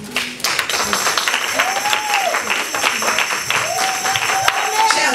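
A crowd applauds steadily with dense clapping, while a voice speaks faintly in the background.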